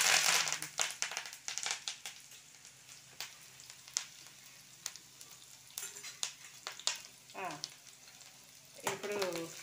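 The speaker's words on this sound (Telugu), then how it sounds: "ఇప్పుడు ఆనియన్స్ వేస్తున్నారు. ఇప్పుడు కరివేపాకు వేస్తున్నారు." Onions and curry leaves dropped into hot oil, crackling and popping in a lively close sizzle with frequent bursts and stirring scrapes, with a few brief voice sounds in between.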